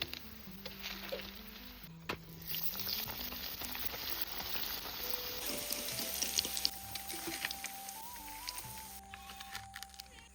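Banana-flower chops frying in oil until reddish-brown in a village kitchen, a continuous bubbling sizzle with light spatters and an occasional stir, close and steady under soft background music.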